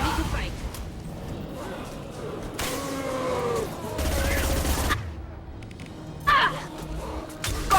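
Heavy gunfire rattles through a Mass Effect 2 firefight, dense bursts and blasts layered with game voices and effects, fairly loud throughout.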